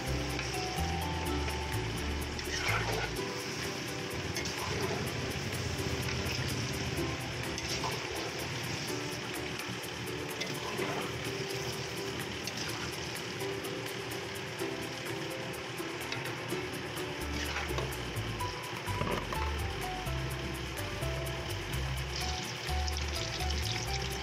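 Sweet potato chunks stirred in melting sugar in a pan for kamote cue, frying with a steady close sizzle and occasional scraping stirs, continuous with no talk.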